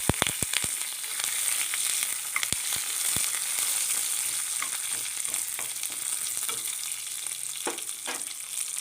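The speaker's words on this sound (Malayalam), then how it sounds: "ചെറിയ ഉള്ളി അരിഞ്ഞതും കറിവേപ്പിലയും കൂടെ ഇട്ട് കൊടുക്കാം ചെറിയ ഉള്ളിയൊക്കെ ഒന്ന് നല്ല ബ്രൗൺ കളറാവണം" Chopped shallots and curry leaves fry in hot oil for a ladies finger tamarind curry tempering, giving a steady close hiss and sizzle with a few sharp pops and taps at the start.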